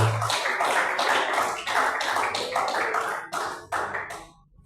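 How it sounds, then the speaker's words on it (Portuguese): A church congregation claps loudly in a fast, even rhythm of sharp, dense claps. The clapping carries on for a few seconds and then thins out and stops. "Pode bater as palmas bem forte para o Senhor de Deus."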